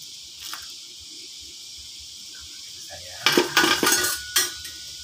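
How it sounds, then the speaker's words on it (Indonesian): Spoon stirring garlic peanuts in a pan, with a few scraping, clinking strokes close by after a quieter stretch of faint background hiss and insect-like chirps. "Kemudian kita aduk-aduk lagi pemirsa sampai"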